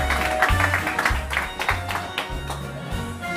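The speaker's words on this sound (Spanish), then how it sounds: "Un aplauso para la Tita, nuestra sevillana." Applause from a television studio audience, a moderate spread of clapping that runs throughout beneath a steady low music bed, with a voice talking over it.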